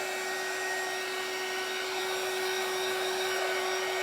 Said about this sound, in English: I'm hitting him with my heat gun.